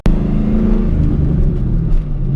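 A Ford Mustang engine rumbles low and heavy up close, a steady throaty drone with slight rises in revs.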